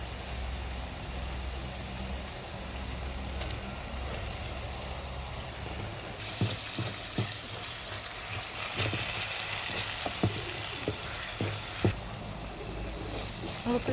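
Onions sauté in a pan with a broad, steady sizzle, louder in the second half, punctuated by light clicks and scrapes of a spoon, with a low background hum.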